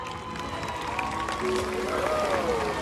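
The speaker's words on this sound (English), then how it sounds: "give him a big round of applause for Ikaika" An audience applauds at a SeaWorld orca show for Ikaika, a 20-year-old killer whale. Steady, dense clapping fills the open-air stadium throughout, with a few thin whistle-like tones rising above it.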